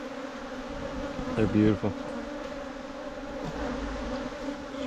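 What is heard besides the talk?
honey bees buzzing around a hive frame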